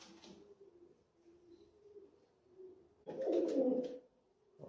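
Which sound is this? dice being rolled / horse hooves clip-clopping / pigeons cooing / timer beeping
pigeons cooing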